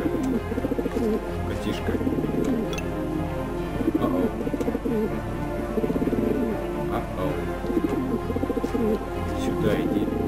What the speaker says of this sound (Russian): Да не, это же последний голубь, что ли?